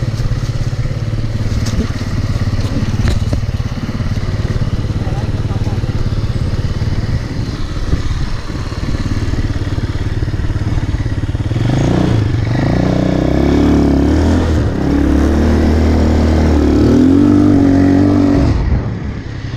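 A quad bike engine revving loudly while being ridden, its throttle rising and falling with a rough clattering motor note that swells in the second half, close by and continuous throughout.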